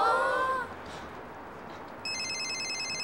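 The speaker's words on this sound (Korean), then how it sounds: "어 전화 왔네요." A telephone ringtone repeats as a bright, steady electronic ring that starts partway through. A brief stretch of voice comes before it, with quiet room background underneath.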